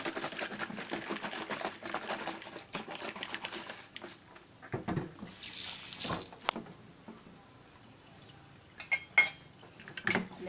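Calamansi juice with cold water being stirred and mixed, a spoon clinking and scraping against a container in irregular bursts, with brief splashy sounds, close and fairly quiet.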